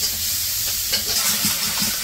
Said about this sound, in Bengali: পেঁয়াজ কাঁচামরিচ ভাজা ভাজা করে হলুদ মরিচ দিয়ে দিছে